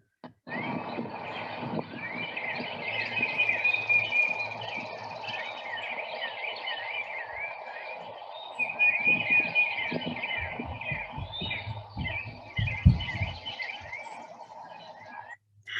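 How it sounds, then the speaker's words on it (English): Several wild birds sing at once in a field recording, repeated chirps and warbling phrases overlapping continuously, fairly faint and distant, with occasional soft rustles underneath. "Lots of birds in there."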